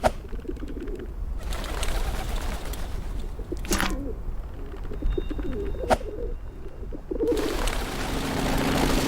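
Pigeons coo in the video game Whateverland, repeated soft low cooing phrases over a constant ambient bed, with a few brief sharp bursts of noise between them.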